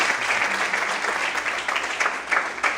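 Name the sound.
congregation applause in church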